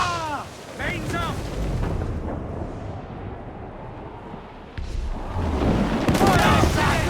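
Ship cannons fire in heavy broadside volleys during a naval battle in Assassin's Creed IV Black Flag, with loud, continuous rumbling booms and crew voices shouting over the barrage.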